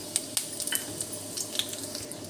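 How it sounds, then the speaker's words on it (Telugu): Hot oil crackles and spits in small sharp pops over a low steady sizzle as dried red chillies and tempering spices fry for chutney, close up and fairly quiet, with no talking. "ఆయిల్ అయితే ఈటెక్కింది, పోపు అయితే పెడుతున్నాను చట్నీకి."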